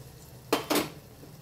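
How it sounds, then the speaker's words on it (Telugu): Hard kohlrabi pieces drop into a cooking pan in two quick clattering thumps, close and clear against quiet, with no talk. "ఇప్పుడు ముక్కలు వేసుకుంటున్నా"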